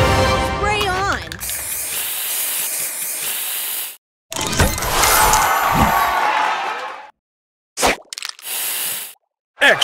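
Spray booster effect from the Match Masters match-three mobile game: loud bursts of hissing spray with bright chimes and pops, then a pause and a few shorter sharp sparkly hits.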